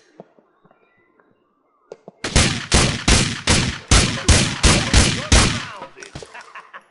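Automatic gunfire in the video game GTA IV, a loud, close burst of about ten rapid shots in even rhythm after a few quieter clicks, with a handful of fainter hits trailing off.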